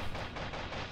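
Rapid automatic gunfire from a weapon in the mech shooter game Heavy Storm Shadow: Prologue, a dense, continuous loud burst of overlapping shots with no pauses.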